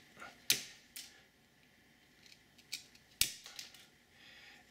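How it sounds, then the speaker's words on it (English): A knife snaps through the end of a bamboo chopstick in a series of sharp, crisp cracks and clicks, two of them loudest, with quiet pauses between. "The first is to simply cut off the end of the chopstick in this manner."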